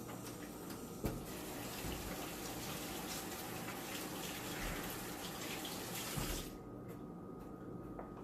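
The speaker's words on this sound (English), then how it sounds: "So I'm just washing my hands, y'all." Tap water runs steadily into a sink while hands are washed, a continuous close splashing gush that cuts off near the end.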